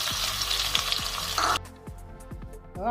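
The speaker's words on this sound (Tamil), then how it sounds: "ஆனியனும் பூண்டும் நல்லா எண்ணெயில் ஃப்ரை ஆகிற அளவுக்கு நல்லா வதக்கி விட்டுக்குங்க" Pounded onion and garlic fry in hot oil for a Tamil fish curry, a steady bright sizzle with a faint low clatter of stirring.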